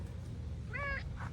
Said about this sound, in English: here's my cat